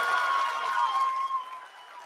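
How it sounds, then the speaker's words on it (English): Audience applause in a crowded control room during a live broadcast of India's lunar lander touchdown, a soft, even patter of clapping fading over about two seconds, with no talk over it. "People are applauding."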